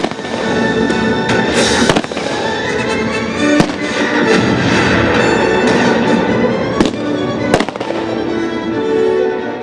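Battle effects at an outdoor sound-and-light show about a First World War trench attack: loud continuous crackling bursts like machine-gun fire and explosions, with sharp louder cracks every few seconds, filling the whole stretch.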